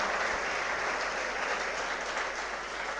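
Sustained, dense applause from a large seminar audience, steady and loud throughout with no pauses or voices standing out.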